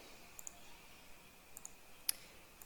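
A computer mouse clicking several times in quick, faint taps over a quiet background, with one sharper click near the end.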